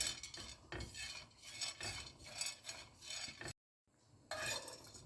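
Roasted gram, pottukadalai, is roasted and stirred in a pan, a ladle scraping rhythmically through the dry grains in quick rasping strokes, broken by a brief silent gap before the stirring resumes.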